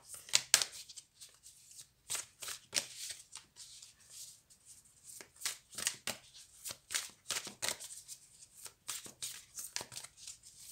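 Oracle watercolour cards with a silky, slightly sticky finish being shuffled by hand, producing a quick series of crisp riffling bursts and soft slides at close range, alone without talk.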